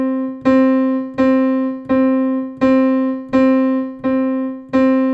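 A piano plays a steady run of quarter notes, seven evenly spaced strikes on the same pitch, each ringing clearly and fading slightly before the next, close and alone.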